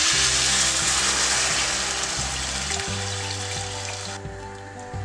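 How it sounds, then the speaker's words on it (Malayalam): Milk poured into a hot pan of carrot and coconut cooking in ghee, giving a steady broad hiss and liquid rush with some clattering, the pouring cutting off sharply near the end. "നമുക്കിതിലേക്ക് പാലൊഴിച്ചു കൊടുക്കാം"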